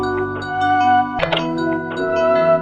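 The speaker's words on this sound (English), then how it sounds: "we're going to be adding gross beat to add this halftime effect" A short music loop run through a Gross Beat halftime effect, sustained melodic tones with a slowed, stretched feel and a brief percussive burst in the middle, loud and close with no talking.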